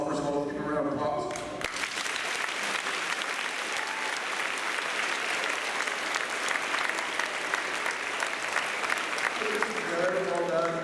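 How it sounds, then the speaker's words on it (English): A school assembly crowd gives sustained applause, dense and even for several seconds, with a voice speaking briefly before it and again as it tapers at the end. "give him a round of applause"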